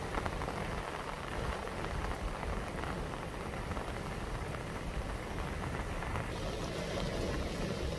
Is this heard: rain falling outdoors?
yes